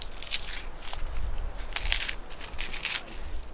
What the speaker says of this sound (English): I need to go ahead and process down this garlic for cooking up the shrimp